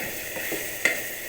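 Chicken pieces sizzle in a pan with coconut paste and poppy seeds while a utensil stirs them, giving soft scraping strokes over a low sizzle and two sharper clacks against the pan, faint and close with no talk.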